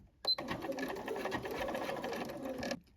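A sewing machine stitches along the gathering lines of a fabric top in a single continuous run of about two and a half seconds, a quiet steady whirring buzz with a click at the start and no talking.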